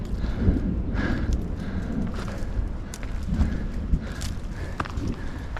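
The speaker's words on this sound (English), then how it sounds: "Yeah, it's hail coming down." Hail falls during a mountain storm on a canyon hiking trail, a dense, steady patter of pellets striking ground and foliage with scattered sharper hits, close and continuous, with some wind buffeting the microphone.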